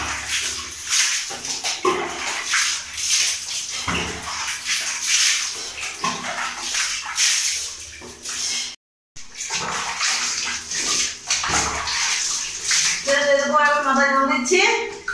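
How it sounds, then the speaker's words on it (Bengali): While a woman bathes, water is poured over her head in repeated splashing rushes that wash over a steady hiss, with someone talking throughout and one brief dropout midway. "মাথায় জল দিচ্ছি"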